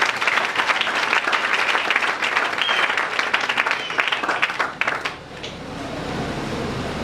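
A church congregation breaks into loud, sustained applause and cheering for the Lord, dense clapping filling the room before it tapers off into a quieter murmur near the end.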